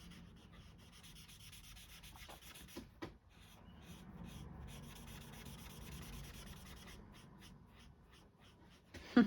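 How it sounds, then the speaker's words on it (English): A pet scratches and rubs inside a cardboard shipping box nearby. The faint, steady scraping keeps going with a few sharper scuffs and bumps, and no one talks. "If you can hear that scratching, Squirt's just made his way into my box"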